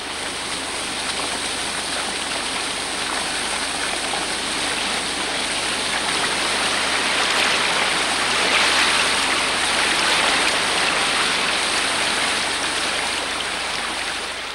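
A river swollen in spate after a storm, with water rising fast down the valley, rushes in a dense, loud, continuous roar like a torrent, close by and without voices.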